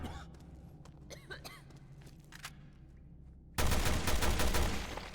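Gunfire in the video game Resident Evil Revelations 2: quiet shuffling and faint clicks, then a sudden loud, sustained blast of shots that fills the rest of the moment.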